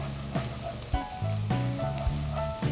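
Garlic sautéing in a frying pan, a light sizzle under several sharp clanks and scrapes as a utensil stirs and knocks against the pan.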